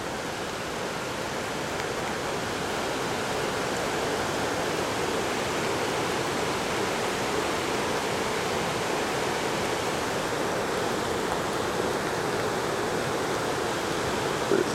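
A river rushing in a flash flood at Great Falls, heard as a steady, loud broadband roar of churning water that runs unbroken throughout with no voices.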